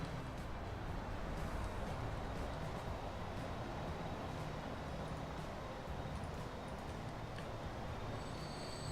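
A train passing through in the Transport Fever rail-building game, a steady, continuous rumble of wheels and carriages that holds evenly throughout at moderate volume.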